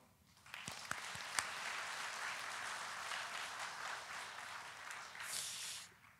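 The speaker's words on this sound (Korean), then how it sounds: "우리 박수로" A church congregation breaks into sustained applause after a hymn, building within the first second into a dense, even wash of clapping that holds steady before tapering off near the end, with a few sharper claps standing out early on.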